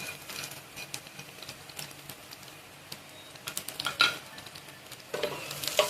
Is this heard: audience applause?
no